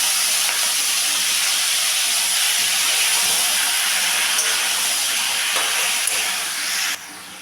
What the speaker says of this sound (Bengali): এখন আমি এটার মধ্যে শাপলাটা দিয়ে দেব।